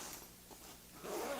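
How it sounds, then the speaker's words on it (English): A zipper on a guitar gig bag is drawn in a couple of short, soft rasping pulls, faint and close, ending in a slightly louder zip. "Feeling the zipper on the bag."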